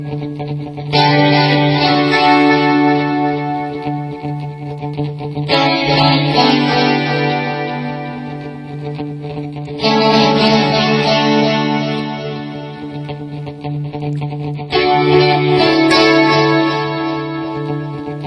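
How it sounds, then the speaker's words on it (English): Electric guitar through a delay effect playing a riff, dense repeating echoed notes in four loud sustained phrases, close and alone without talking. "let's turn the delay on"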